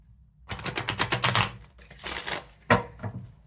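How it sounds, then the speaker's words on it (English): Tarot cards are riffled in quick shuffles, rapid dense fluttering clicks in two bursts followed by a sharp snap, close and fairly quiet, with no talking. "One more shuffle."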